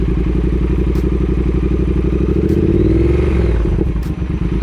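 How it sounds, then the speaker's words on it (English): A modern Triumph parallel-twin motorcycle engine idles with a steady loud throb, then the throttle is blipped so the revs rise and fall before it settles back, heard up close with no talking. "you want to give it a little throttle just to make sure that it looks like it's in balance"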